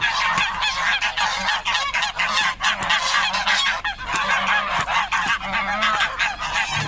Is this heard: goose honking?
yes